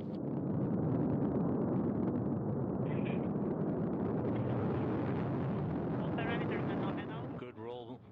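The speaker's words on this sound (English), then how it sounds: "Engine ignition, turbo pumps coming up to flight speed, and liftoff. Liftoff of Soyuz MS-19" A Soyuz rocket lifts off with the MS-19 crew, a broad, rumbling roar that holds steady and then eases off, heard from a distance beneath a commentator's voice.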